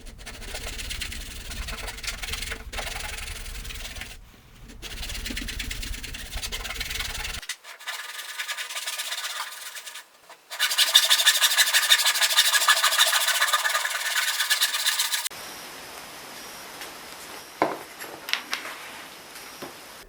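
Fret slots in a guitar fretboard for an ES 335 build are recut to depth by hand, giving bursts of rubbing, scraping saw strokes separated by short pauses, close and fairly loud, with no talk.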